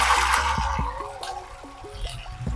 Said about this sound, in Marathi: एक भांड पाणी टाकते.